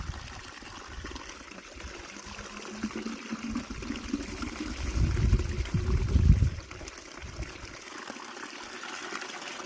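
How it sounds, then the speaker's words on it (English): Fast-running stream water on a Snowdonia hillside in the Arans babbles and trickles steadily and close by, swelling into a louder gushing rush midway before settling back to a softer flow. "When we're picking up water on the hill, the best, clearest stuff that we'll get is the fastest running water."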